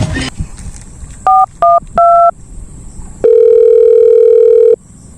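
A telephone gives three short keypad dial beeps, then a long steady electronic tone, loud and close, with no talking.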